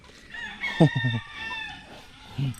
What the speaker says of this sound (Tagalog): yung mga native natin na manok